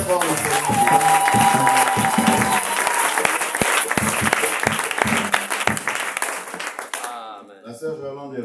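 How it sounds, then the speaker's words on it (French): A church congregation at a revival meeting claps and cheers loudly in a sustained burst of applause mixed with voices, tapering off near the end. "Acclamons très fort le Seigneur."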